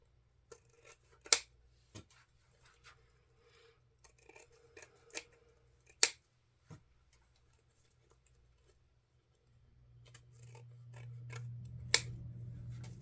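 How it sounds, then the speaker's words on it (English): Scissors snip the ends of a Halloween deco mesh bow in a series of sharp, isolated clicks spaced a second or two apart, near and quiet, with a soft rustling hum near the end. "grab your scissors and trim your ends"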